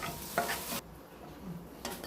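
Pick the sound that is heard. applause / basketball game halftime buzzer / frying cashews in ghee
frying cashews in ghee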